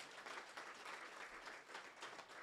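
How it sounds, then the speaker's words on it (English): A workshop audience applauds a panel of speakers at an impact investment event, steady even clapping that holds for a couple of seconds, fairly faint and distant, without talk. "let's give a thunderous applause for our panel"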